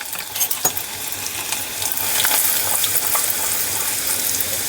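Chopped garlic and asafoetida sizzling in a pan over a low gas flame, a steady close crackle with scattered sharp pops that grows slightly louder partway through, with no voices.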